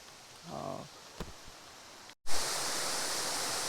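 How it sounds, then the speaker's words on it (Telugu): Tukad Cepung waterfall in Bali: a loud, steady roar of falling water breaks in suddenly after a brief cut, following a quieter stretch of outdoor ambience with a faint voice. "ఇదే వాటర్ ఫాల్"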